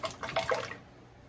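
Condensed milk poured into a homemade strawberry preserves ice cream mixture, a brief close splashy liquid pour that tapers off within about a second, with no talking.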